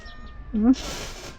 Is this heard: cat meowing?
yes